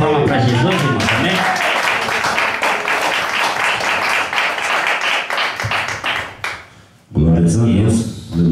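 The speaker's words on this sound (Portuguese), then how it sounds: "Vamos dar mais uma salva de palmas para Jesus" Congregation applause for Jesus at a church vigil, loud dense clapping close by for several seconds, fading out before a voice speaks again.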